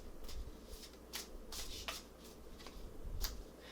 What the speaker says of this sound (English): I feel like there's just one more card, so I'm going to shuffle here.